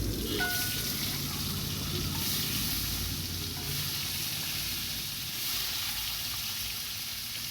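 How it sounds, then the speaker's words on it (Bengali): Eggs frying in hot oil with a little turmeric give a steady, fairly quiet sizzle and crackle that runs continuously with no talking. "তেলের মধ্যে সামান্য পরিমাণে হলুদ দিয়ে দিলাম এরপর এক একটা ডিমগুলো ছেড়ে দেবো"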